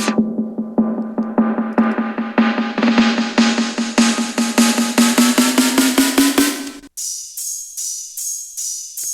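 A snare sample drives an electronic remix drop in a fast, steady roll of loud hits that climbs slightly in pitch, then switches to a thinner, brighter repeating pattern near the end.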